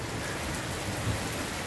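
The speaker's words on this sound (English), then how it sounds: "Got shot with rain again." Steady, dense rain pattering on a surface in Norridge, Chicago, a continuous hiss with low rumble beneath, fairly close and even throughout.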